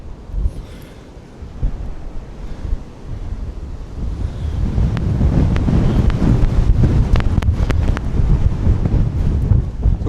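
Strong outdoor wind in winter buffets the microphone with loud, rumbling gusts that build and stay heavy, mixed with faint crackling; no speech.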